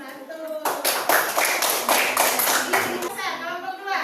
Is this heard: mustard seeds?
no